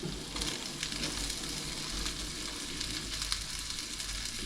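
Food simmering in a pan over a camp stove at a campsite gives a steady, close sizzle and bubble that runs unbroken throughout, with no talking.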